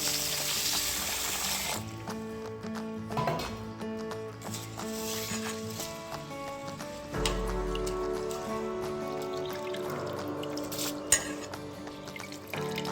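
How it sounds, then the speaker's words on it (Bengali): Biryani rice is washed with water, making a continuous close-up swish and patter of water and grains in a pot. A steady tonal hum runs beneath it. "জল দিয়ে ধুয়ে নেব চালটা"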